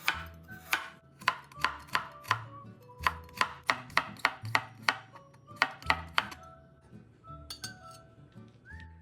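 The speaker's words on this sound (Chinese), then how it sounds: "包菜适量，多或少一点都可以，切细后备用。" A knife chops cabbage finely on a board in a series of quick, crisp strikes, a couple of seconds at a time, with brief pauses between bursts. The sound is close and clear, with a faint clink at the end.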